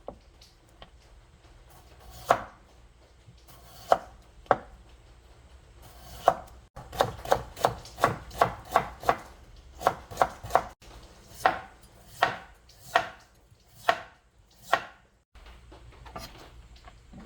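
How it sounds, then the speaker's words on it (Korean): A knife julienning potatoes on a cutting board makes scattered single strokes, then a quick, steady run of sharp taps, slowing again toward the end. "먼저 감자를 채치겠습니다."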